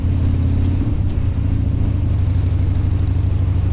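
A 2016 Harley-Davidson Dyna Street Bob cruises in sixth gear at about 40 on a rainy ride, its low, steady engine rumble droning close and even, with no voices.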